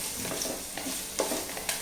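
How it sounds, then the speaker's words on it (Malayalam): Boiling curry poured over browned onions for theeyal, giving a close, steady sizzle with stirring scrapes and a couple of louder bursts as the liquid hits the hot pan. "എന്നിട്ട് നമ്മുടെ ആ തിളച്ചുകൊണ്ടിരിക്കുന്ന കറി ഇതിലോട്ടങ്ങ് ഒഴിക്കും."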